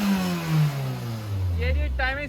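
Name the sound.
car engine revving to the rev-limiter cut-off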